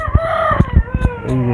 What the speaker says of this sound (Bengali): এই যে মুরগি দেখতে পাবেন